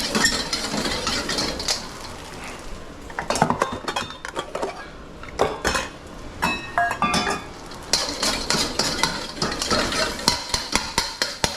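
Beaten eggs are broken up in a hot wok with a metal utensil, giving repeated sharp clanks and scrapes against a soft sizzle, loud and close throughout.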